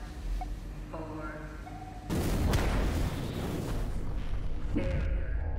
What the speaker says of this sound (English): The core of the reactor exploded 4 seconds after touchdown.